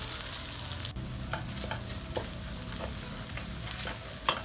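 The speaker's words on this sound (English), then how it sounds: "I'm stirring." Bacon and egg carbonara ingredients stirred in a frying pan, giving a steady low sizzle with repeated scraping strokes of the utensil against the pan, close and clear with no talking.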